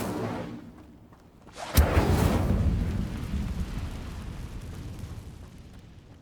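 An Incendio fire spell cast in the video game Hogwarts Legacy, a sudden loud whoosh and burst that swells into a roaring, crackling blaze slowly fading over several seconds.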